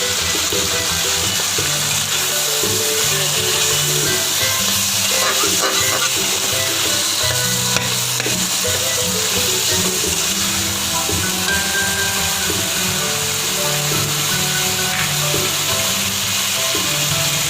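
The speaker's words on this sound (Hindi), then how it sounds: "ये सब्जियां फ्राई हो गई हैं। अब मैं इसमें सारी मसाले ऐड करूँगी। ये हमारी चिली सॉस चलेगी।" Vegetables sizzle and fry steadily in a hot pan while chili sauce and spices go in for a chicken macaroni dish, a loud continuous crackle with occasional stirring and faint clinks.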